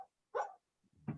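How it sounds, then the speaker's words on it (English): A dog lets out a few soft, muffled barks and yips while dreaming, one brief louder woof followed by low grumbling sounds, fairly quiet and without talk. "my dog is having a dream."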